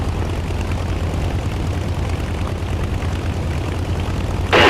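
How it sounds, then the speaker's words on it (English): A Harrier jet in the DCS flight simulator gives a steady, loud engine roar with a low rumble, ending in a sudden louder broadband whoosh. "Are you flying the Harrier?"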